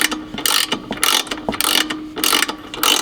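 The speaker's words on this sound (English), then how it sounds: "you can feel free and go ahead and tighten up this bolt" A ratchet clicks in quick bursts of repeated strokes, close and fairly loud, tightening a 19mm bolt on a 5th Gen Toyota 4Runner.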